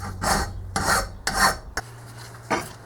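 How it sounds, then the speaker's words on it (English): A metal file rasps across a new carriage casting in four firm, even strokes with short pauses between them, close and loud, with no one talking. "at just how fast files can take stuff off"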